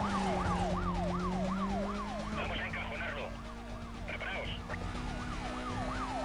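Police car sirens in the Need for Speed: Most Wanted racing game wail continuously, two sirens overlapping: one rising and falling quickly, another slow sweeping tone, with engine drone underneath and brief bursts of noise in the middle.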